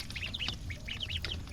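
Farm ducks being fed chopped water spinach quack in a rapid cluster of short nasal calls, several birds overlapping close by against a steady background hiss.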